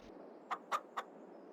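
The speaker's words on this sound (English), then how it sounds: "Chickens in here eating bugs" Three quick clucks from a chicken, close by and fairly quiet, over a soft steady background hiss.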